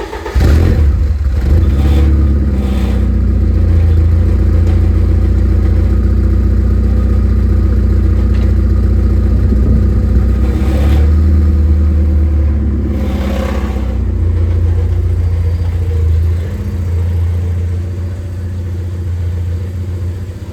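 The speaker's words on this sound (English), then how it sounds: "I'm going to back the car out" A 1986 Porsche 944 engine runs steadily as the car backs out, a loud, close, low rumble with slight rises in revs and no talking.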